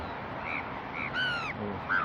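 Crows caw at Inya Lake in Yangon, a few hoarse, drawn-out calls at moderate distance over steady outdoor background noise, with one sharper call near the middle.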